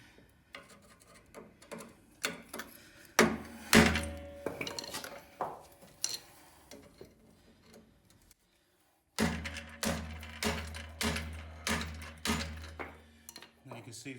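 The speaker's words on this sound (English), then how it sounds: "I've got an old screwdriver here that I don't mind smashing up." An old screwdriver is hammered against a Ford Ka rear axle bush, giving a series of sharp metallic strikes in uneven bursts, close and loud, with a brief silent gap partway through.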